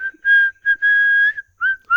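A person whistles a simple tune alone, several clear, close, sustained notes separated by short pauses.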